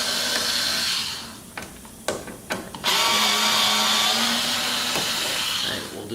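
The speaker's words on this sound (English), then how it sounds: "I'm going to put my 15 Torx on here, and I'm going to start pulling these Torx screws" A power driver with a T15 Torx bit whirs in short bursts and then a longer run, backing screws out from beneath a C8 Corvette's carbon fiber spoiler, close and fairly loud.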